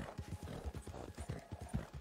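Horses in a video game gallop with rapid, steady clip-clop hoofbeats, close and continuous for about two seconds, with no talking.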